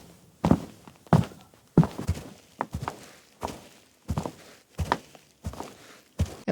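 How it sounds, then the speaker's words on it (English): Ten steady, evenly spaced footsteps, each a clear heel-strike thud, walking at a relaxed pace and panning from left to right, with nothing else in between. "You'll hear footsteps on the left and then footsteps on the right."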